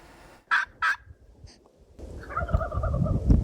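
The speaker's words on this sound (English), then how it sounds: "To be able to go out there and hear a wild turkey on the roost, it'll just blow your mind." A wild turkey gobbles twice from its roost in spring hunting season, two sharp rattling bursts at moderate distance, followed by a faint call and then a rising outdoor rumble.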